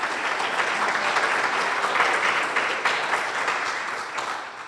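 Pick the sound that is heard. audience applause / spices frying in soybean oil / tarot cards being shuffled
audience applause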